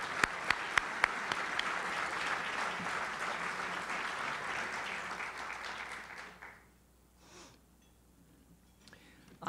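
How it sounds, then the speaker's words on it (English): Applause from a luncheon crowd honoring a hotel team, steady dense clapping for about six seconds before it trails off into near silence with a few scattered claps. "I think they deserve a round of applause."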